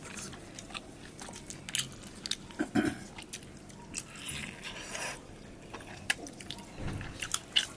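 Close, soft chewing and biting while eating chicken curry, with moist smacking and small crunches in an irregular rhythm and no talking.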